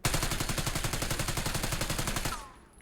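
Rapid automatic gunfire from a weapon in the video game Warzone, a loud, evenly spaced burst of about twenty shots lasting over two seconds before cutting off into quiet.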